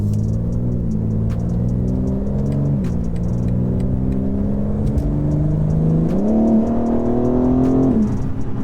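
A 2021 BMW G82 M4 Competition, rear-wheel drive, heard from inside while driving, the engine droning steadily and then rising in pitch under acceleration before easing off, with no talk.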